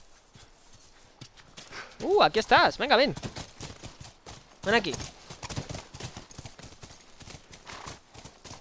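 Horse hooves clip-clop in The Last of Us on PS3 while someone speaks Spanish over them, calling the horse in a steady, moderately loud stream of talk that mostly sits on top of the footfalls.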